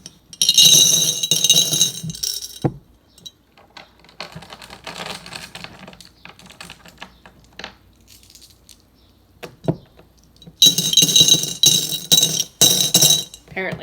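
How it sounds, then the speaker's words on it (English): Glass rocks being dropped into a mason jar to make a lantern, giving two loud bursts of bright clinking and rattling glass on glass, with a quieter stretch of softer clatter in between. "you want to take your glass rocks and just kind of gently put them in there."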